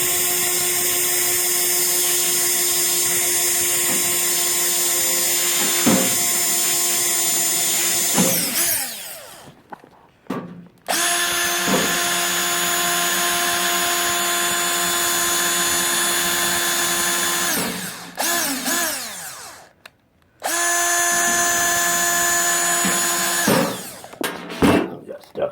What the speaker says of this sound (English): You're going to pre-drill in the corners.